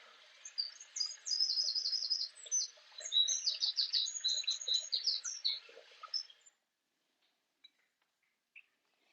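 Birdsong from a nature-sound recording with birds and a waterfall, bright rapid chirps and trills in close succession for about six seconds, then stopping abruptly into near silence with a couple of faint clicks.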